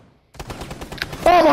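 Rapid bursts of gunfire from Rainbow Six Siege, a quick run of sharp shots after a brief silence, close and loud, with a voice breaking in over the last of it.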